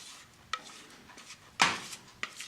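A rubber spatula scrapes chocolate cake batter into a cake pan, giving a few soft scraping strokes and light clinks of the utensil against the pan, with one stronger sweeping scrape in the middle.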